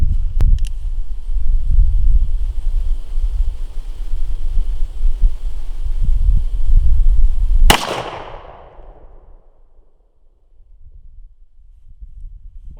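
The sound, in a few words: Colt 1847 Walker black powder revolver firing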